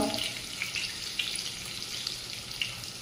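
Hot oil tempering with a pinch of asafoetida and leaves, a close, continuous sizzle scattered with sharp little crackling pops.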